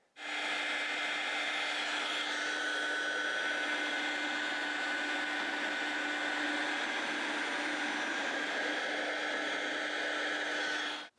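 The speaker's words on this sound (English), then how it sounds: "I use a heat gun in the cutaway area" A heat gun blows hot air onto a wooden guitar side at the cutaway area for bending, producing a loud steady whooshing fan hum with a constant tone that starts and stops abruptly.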